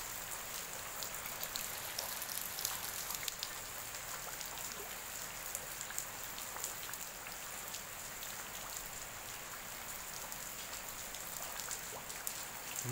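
First heavy rain of the season in Karangmojo, Gunungkidul, falling steadily as a dense patter of drops striking surfaces nearby, continuous and even with no one speaking.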